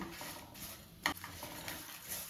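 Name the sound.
garlic and cumin tempering sizzling in oil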